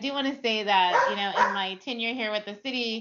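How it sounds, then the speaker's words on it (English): Dogs bark and yip in the background of a virtual lunch-and-learn meeting, mixed under a person speaking continuously into a microphone, with the barks overlapping the talk throughout. "I'm sorry for my dogs"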